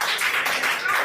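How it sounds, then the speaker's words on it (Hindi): Hands clapping in a Hindi classroom, a brief burst of quick, close applause from a group lasting about a second. "ताली बजाओ इसके लिए।"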